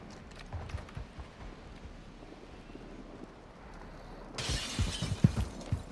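Window glass shatters in Modern Warfare 2 as a bright, sudden burst of crashing noise late in the clip, with rough low thuds and footsteps around it; no voices.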